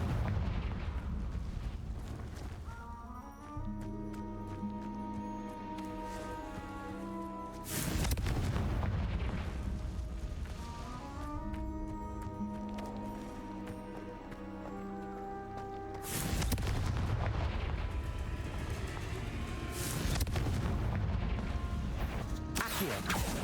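Booming blasts of the Confringo fire spell in Hogwarts Legacy, three heavy explosive bursts spaced several seconds apart over a loud, dense game soundtrack.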